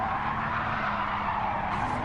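A car drifting in Gran Turismo 7 with a continuous, loud tyre squeal over a droning engine, one sustained skid lasting the whole moment.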